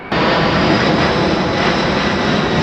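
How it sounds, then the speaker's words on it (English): A C-17 Globemaster military transport jet passes overhead near a Seattle–Tacoma skatepark, giving a loud, steady, broadband engine roar that holds constant for the whole stretch. "C17, Globemaster, pretty badass."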